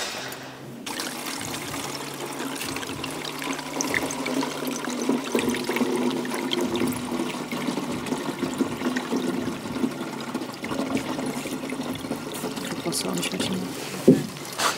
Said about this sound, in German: Du musst das schon so weit auffüllen, dass da Wasser rauskommt da oben an der Stelle